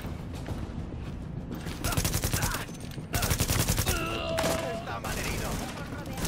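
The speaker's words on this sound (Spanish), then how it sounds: "Me ha parecido oír una escopeta." In The Division, close bursts of rapid gunfire come and go with heavier blasts and mechanical clatter between them, loud and busy throughout, with a voice talking over parts of it.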